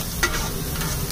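Onions and tomatoes fry in Amul butter on a street-food griddle for Maggi, giving a steady close sizzle with brief stirring scrapes throughout, no talking.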